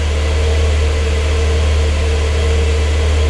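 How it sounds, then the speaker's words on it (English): A Porsche 911 Carrera 992 cabriolet's 3-liter engine runs at a steady idle, a loud, constant low hum with a broad wash of noise that stays unchanged throughout. "So you can listen to that 3-liter engine slowly warm up and spring to life."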